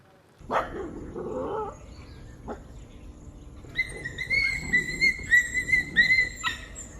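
Stray dogs barking on a city street in Palakkad: a couple of separate sharp barks early on, then a run of repeated yelps and whining barks toward the end, fairly close and loud.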